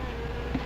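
Wasps buzzing in a steady, dense drone, close and fairly loud, a brief continuous hum of several insects with no talk.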